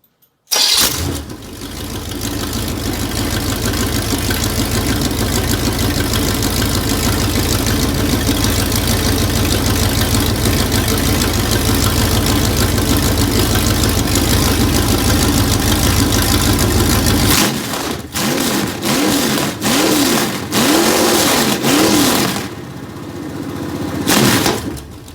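A boat engine catches almost at once and settles into a loud, steady idle with a continuous low drone. Near the end it cuts out and leaves a short, uneven rumble.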